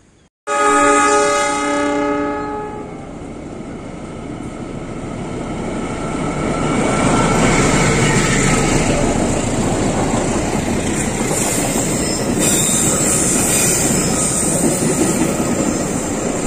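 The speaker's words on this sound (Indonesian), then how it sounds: "saya sedang menunggu kereta api jalur utara melintas di Jembatan Cirahong" The Cikuray passenger train approaches with a loud horn blast, then rolls past close by over the Cirahong Bridge in Indonesia with steady rumbling and rhythmic clatter of wheels on the track.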